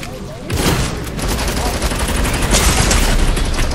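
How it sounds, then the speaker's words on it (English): Rapid, loud gunfire from a high-ammo weapon in the video game Fortnite, a sustained burst of shots that starts after a brief pause and keeps going without a break. "I'll use the gun with the most ammo in the game."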